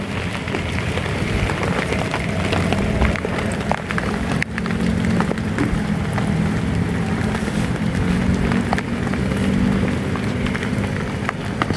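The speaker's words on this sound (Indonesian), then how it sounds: "Ini sekarang udah gerimis juga." Light drizzle falls steadily over a hilltop campsite at Bukit Cihulu Camp beside a pitched tent, a continuous soft hiss of rain spread evenly throughout with no voices.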